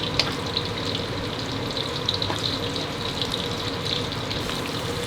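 Fresh mackerel fries in oil over medium-low heat, giving a steady, close, continuous sizzle and crackle with no voices.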